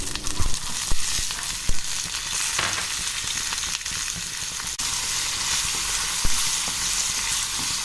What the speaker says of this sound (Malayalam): ഇനി നമ്മൾ നേരത്തെ മുറിച്ച് വെച്ചിരിക്കുന്ന മാങ്ങ കഷ്ണങ്ങളുണ്ടല്ലോ, അത് ഇതിലേക്ക് ഇട്ട് കൊടുത്ത് നന്നായിട്ട് വഴറ്റിയെടുക്കാം